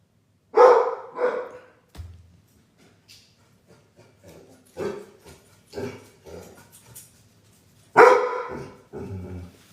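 Several dogs bark indoors in loud, close bursts, with a pair of yelps early on, scattered quieter woofs and growls in the middle, and another strong round of barking near the end.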